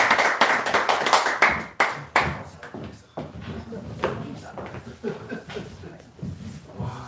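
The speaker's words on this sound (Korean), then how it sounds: "우리 하나님께 영광의 박수 올리겠습니다" A church congregation claps during a Korean worship service: a burst of loud, uneven handclaps thins into scattered, fainter claps, with murmured voices beneath.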